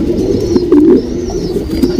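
An HMT Rekdhar pigeon coos in low, soft, repeated phrases, close and clear, with a faint high chirp in the background.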